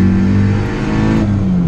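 A home-built 300 BHP turbocharged Ford Capri engine revs hard and loud up close, a steady throaty roar with a whining overtone that holds, then dips slightly near the end.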